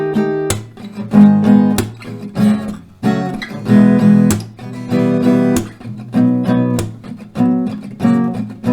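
Acoustic guitar strumming the chord progression of a song, loud and close, with rhythmic strums and chord changes repeating in steady rounds and no talking.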